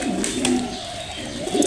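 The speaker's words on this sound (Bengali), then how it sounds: "দুইটা কবুতর খাচ্ছে" Two pigeons feeding give close, throaty coos that roll in soft repeated bursts, steady at moderate loudness with no voices on top.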